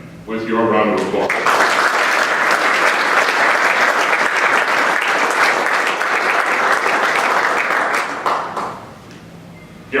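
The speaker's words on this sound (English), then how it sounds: "We honor him with your round of applause" Sustained, loud round of applause from a crowd at a Hall of Fame dinner, rising quickly after a brief voice and holding strong for about seven seconds before fading away.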